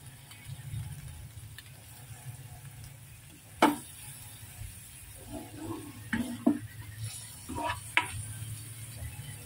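Corned beef sautéing with onion and tomato in a non-stick pan gives a soft, steady sizzle, broken by a few sharp scrapes and stirring clacks of a utensil against the pan.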